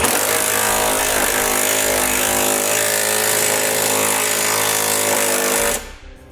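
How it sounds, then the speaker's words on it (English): A powered impact tool hammers steadily while tightening a flange nut with a 3/4 inch socket during a trailer hitch install on a 2018 Ford Explorer, loud and continuous for several seconds before stopping abruptly. "for our flange nut, I'm going to use a 3/4 inch socket to tighten that up"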